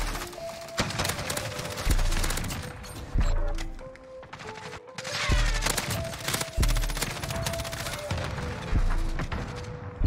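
Rapid automatic M13 rifle fire in Call of Duty: Modern Warfare multiplayer, loud close bursts repeating in short strings with brief pauses between volleys, alone without talk.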